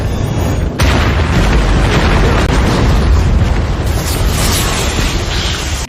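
A loud, sustained explosion roar with a heavy low rumble that keeps going, a sharp surge near the start and again around the middle.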